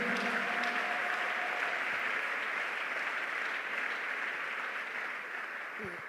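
A church congregation applauding in praise of the Lord Jesus: a steady, loud roar of many clapping hands that carries on throughout and tapers slightly at the end.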